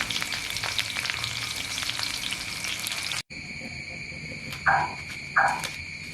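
Ingredients for sambal terasi fry in hot oil with a dense, steady sizzle close up, then after a brief cut the crackle continues with a thin ringing tone and two short louder bursts of spattering.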